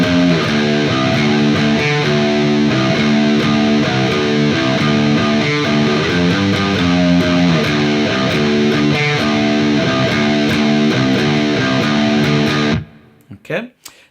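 Distorted electric guitar plays the first four bars of a riff at a slow tempo, a steady loud stream of heavy rhythmic notes ending in a sudden stop and a few faint knocks.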